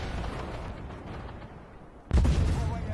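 M60-2000 tank cannon firing a sabot shell in a video game: a low engine rumble, then one sudden loud close boom that rings on through the end.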